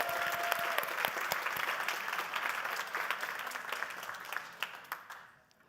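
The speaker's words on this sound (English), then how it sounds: "give him a big round of applause" An audience at a science contest at JKU Linz applauds loudly and continuously, with a few sharp individual claps standing out, before the clapping fades away at the end.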